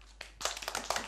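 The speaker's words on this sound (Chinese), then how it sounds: "把掌声送给他。" A second-grade Chinese language class gives a student a short burst of applause: a few quiet lead-in claps, then brisk, fairly soft clapping from a group of children lasting under a second.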